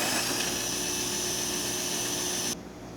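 A serviced Jura C65 automatic coffee machine brews an espresso after a full tune-up, giving a steady loud mechanical whir and hum that runs without a break, then cuts off sharply near the end, with no talking.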